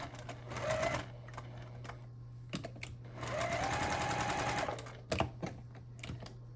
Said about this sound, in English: continue sewing here